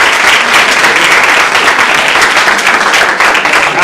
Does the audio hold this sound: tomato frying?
no